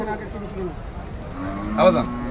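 A cow moos once, a rising and falling low bellow near the end, over the steady chatter and background noise of a busy cattle market where people talk nearby.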